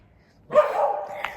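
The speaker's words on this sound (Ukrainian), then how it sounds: "Чого гавкаєш?" A dog gives a single sharp bark followed by a brief trailing whine, close by in a quiet home, with a faint yip just after.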